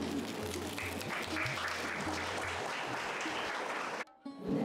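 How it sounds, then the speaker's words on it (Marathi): An audience at a book launch ceremony in Mumbai claps in sustained, dense applause for about four seconds, then it cuts off abruptly before the room noise returns. "आपण टाळ्या वाजवूया"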